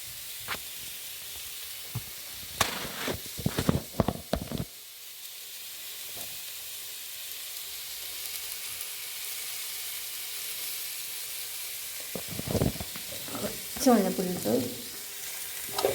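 Violet cabbage with turmeric being stirred in a frying pan: scraping spoon strokes in bursts near the start and again near the end, with a soft steady sizzle running between them and no talk.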